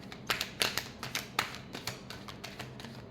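Tarot cards being shuffled give a quick run of crisp, close flicks and taps, about a dozen in an uneven rhythm, fading slightly toward the end.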